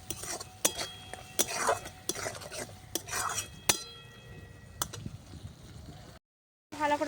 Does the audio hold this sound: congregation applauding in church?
no